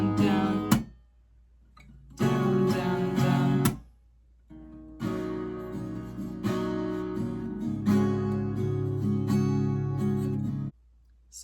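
An acoustic guitar is strummed in firm down strokes, with bursts of ringing chords separated by short silences, then longer stretches of steady strumming, close and clear with no talking.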